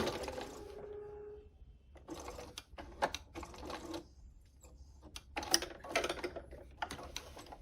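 A sewing machine stitches along a quilt's picture-frame flange border in several short bursts of rapid mechanical chatter separated by pauses, close and fairly quiet, with no voices.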